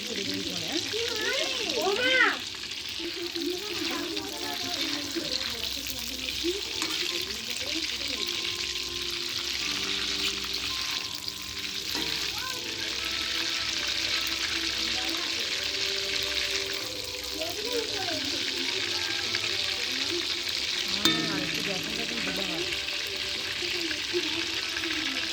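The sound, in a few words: chicken frying in a pan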